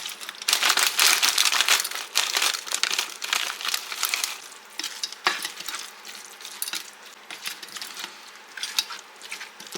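Frozen food and milk are mixed in a cooking pan, giving dense crackling sizzle and rapid wet scraping and crinkling that run continuously and loud, ebbing slightly toward the end, with no voices.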